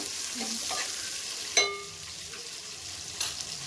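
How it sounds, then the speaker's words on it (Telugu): Green chilies frying in a pan with mint leaves for a chicken curry, giving a soft background sizzle broken by a few sharp clinks of a spoon against the pan, close but fairly quiet. "పచ్చిమిర్చి మంచిగా ఫ్రై చేయాలి మంచిగా మిక్స్ చేసుకోవాలా మంచిగా ఫ్రై కానివ్వాలి"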